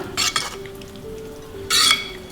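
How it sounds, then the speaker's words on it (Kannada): A spoon stirs a pot of dal sambar with punde greens in two quick scraping strokes, one at the start and one near the end, with a soft kitchen hiss between. "ಇದನ್ನ ಮಿಕ್ಸ್ ಮಾಡ್ಕೊಳ್ಳೋಣ"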